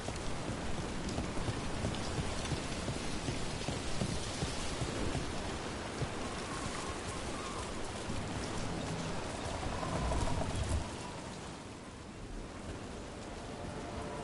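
Steady, dense rain pours continuously, a broad hiss with faint low rumbles beneath, swelling slightly before easing near the end.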